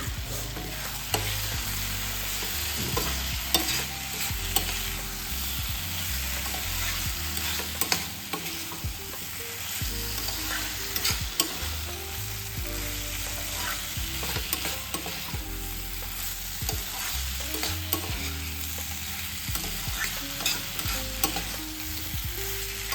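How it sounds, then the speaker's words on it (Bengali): Jackfruit and potato pieces that were boiled and fried earlier now sizzle in spiced oil in a pan, with a steady fry and repeated scraping stir strokes close up, no voices. "আলু দিয়ে দিচ্ছি আর সিদ্ধ করে ভেজে রাখা এঁচোড়টাও দিয়ে দিচ্ছি।"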